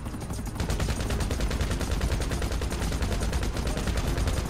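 Rapid automatic gunfire in a video-game shootout aimed at a helicopter, a steady dense rattle of shots running continuously at close, loud level.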